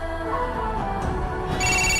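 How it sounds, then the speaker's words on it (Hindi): A phone rings in the video game GTA 4, a steady, electronic ringtone that sounds loud and close, with no talk over it. "रोमन का फोन बज उठा।"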